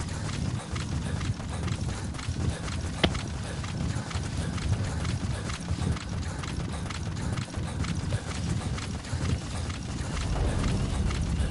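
Steady hoofbeats of a galloping horse in Metal Gear Solid V: The Phantom Pain, continuous and fairly close, over a dense low rumble of game background sound.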